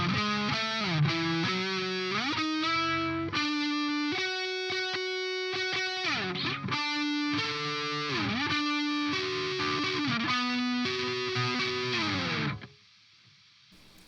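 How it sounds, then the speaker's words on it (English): Distorted electric guitar played through an AxeFX unit, with sustained and bending melodic notes in a continuous, loud line for about twelve seconds before the sound stops abruptly, leaving quiet hiss. "So those are the basic distortion sounds."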